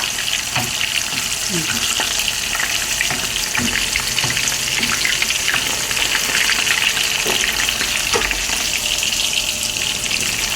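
Breaded food fries in very hot cooking oil in a home kitchen, giving a loud, continuous crackling sizzle with scattered pops and small clatters throughout, and no talk over it.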